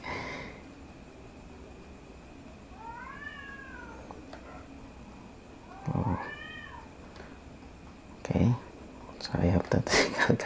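Several cats meow in short rising-falling calls, with a couple of louder bursts toward the end, heard indoors over faint room noise while someone speaks quietly.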